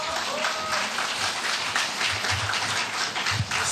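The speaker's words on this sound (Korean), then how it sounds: "뜨거운 박수로 맞아주시기 바랍니다" Party members at a Jeju candidates' rally clap for a candidate taking the stage, a loud continuous burst of applause with scattered crowd noise that carries through the whole stretch.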